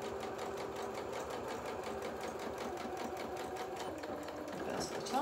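A domestic sewing machine stitches a fabric seam for culottes, running steadily and close for the whole stretch with a rapid, even needle rhythm, then speeding briefly into a short reverse at the end.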